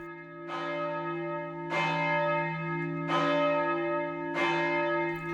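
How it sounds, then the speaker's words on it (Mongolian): Church bells toll in a slow, steady rhythm, four loud struck peals about every 1.3 seconds, each ringing on with a long humming decay that overlaps the next, near and clear with no voices. "Гинэт хамаг юм дөнгөнөн хөнгөнөж сүмийн олон хонх дуугарч эхэллээ."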